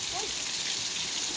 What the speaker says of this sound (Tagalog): Nakaka-relax yung ulan.